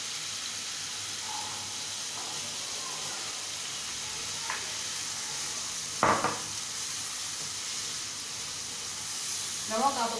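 Dried black chickpeas go into spices already fried in oil in a pan for a Navratri prasad recipe. A steady, fairly soft sizzle runs throughout, with a sharp clatter partway in and a brief stir near the end.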